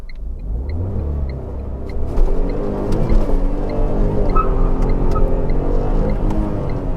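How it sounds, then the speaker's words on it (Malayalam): Tata Tiago BS6 petrol hatchback accelerating hard from a standstill with slight wheel spin, its engine rising into a steady loud drone heard from inside the cabin. "ചെറിയൊരു വീൽ സ്പിന്ന് വന്നു."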